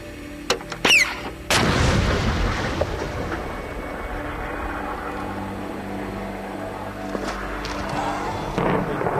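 British Marines fighting the Taleban fire artillery: after a few faint clicks and electronic beeps, one heavy, close blast erupts and rolls into a long, rumbling echo that fades slowly over several seconds.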